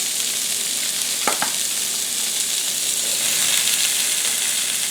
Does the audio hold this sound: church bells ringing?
no